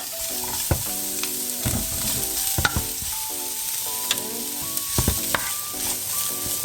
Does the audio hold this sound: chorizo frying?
yes